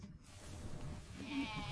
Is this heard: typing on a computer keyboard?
no